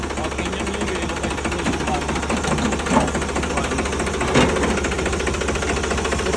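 A Sonalika 35 DI RX tractor engine runs at a steady, loud, rapid diesel clatter close by, with a couple of slight surges partway through.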